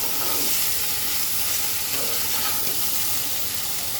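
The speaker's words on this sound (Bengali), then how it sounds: "আগে এটাকে সুন্দর করে একটু ভাজা ভাজা করে নেই।" Taro stolons fry with spices in a pan, giving a loud, continuous sizzling hiss that holds steady throughout, with faint stirring underneath and no voices.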